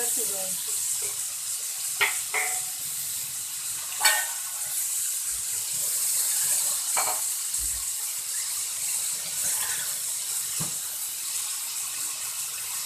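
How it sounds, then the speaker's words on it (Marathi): Low steady sizzling from a pan of cowpea (chavli) pods over low gas, broken by a few light clinks of metal as a plate holding water is set over it. "ताटामध्ये पाणी घेतले आणि मी ताट त्याच्यावर ठेवणार आहे"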